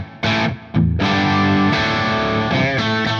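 Distorted electric guitar played through a Friedman BE100 Deluxe amp with a Hall of Fame reverb pedal, loud sustained chords ringing out after a brief stop-start opening.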